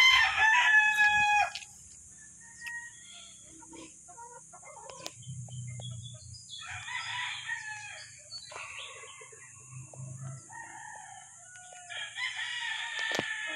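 Banahaw chickens and roosters on a farm, a rooster crowing loudly and close at the start, then scattered hen clucks and more crowing at moderate distance over a quiet, steady background.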